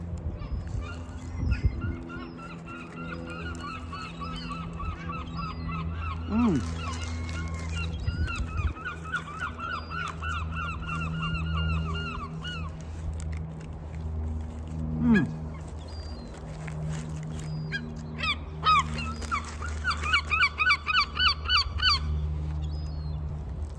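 Geese and other fowl honk loudly around the listener in the medieval town of Conwy, Wales, with repeated bursts of nasal calls in clusters over steady background noise, close and busy.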